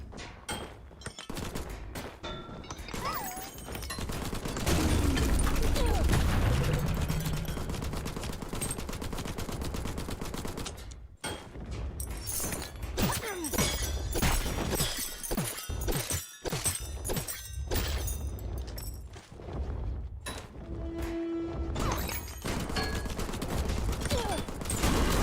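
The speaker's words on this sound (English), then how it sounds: "I'm gonna unload all my rifle ammo on this guy." Rapid rifle gunfire in the FPS horde survivor game Guns 'n Goblins, with dense bursts of shots, shattering and breaking impacts, and short pauses between volleys over about twenty-five seconds, loud and close.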